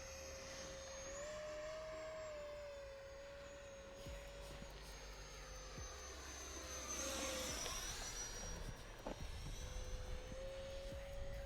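A Freewing 70mm F-22 Raptor RC jet flies overhead, its electric ducted-fan whine holding a steady pitch, then swelling and shifting pitch as it makes a close pass before easing off again.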